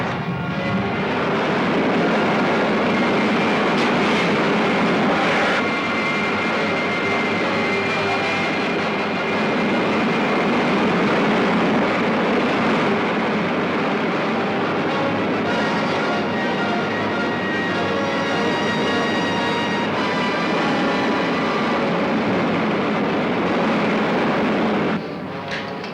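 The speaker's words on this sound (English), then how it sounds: "Fire main jet." Rocket ship main jet fires in an old science-fiction film serial, a loud sustained roaring hiss that holds nearly unbroken for about twenty-five seconds before cutting off.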